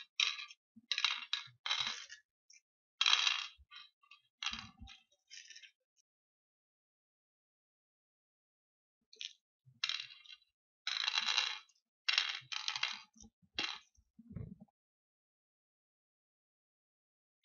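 Pallankuzhi seeds dropped one after another into the board's pits make quick bursts of small clicking rattles in two clusters, close and fairly quiet, with silence between.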